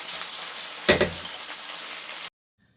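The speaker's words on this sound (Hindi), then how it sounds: "तो बीच बीच में मैं यहाँ पर अपनी सब्जी भी चलाते जा रही हूँ।" Vegetables fry in a kadai with a steady hiss of sizzling oil, broken by a brief clatter of a spoon stirring, close up with no talking, before the sound cuts off abruptly.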